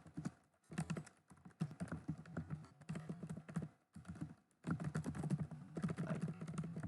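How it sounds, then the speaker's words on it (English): Rapid, close clacking of keys on a computer keyboard, typed in quick irregular bursts with brief pauses between runs. "I just type in git link"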